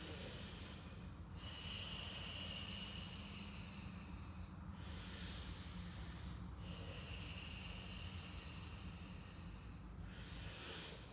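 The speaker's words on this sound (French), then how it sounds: "3 longues inspire, 3 longues expire." Long, slow breaths in and out during a Pilates exercise, heard as steady airy hissing swells that repeat at an even pace, close and quiet, with no talking.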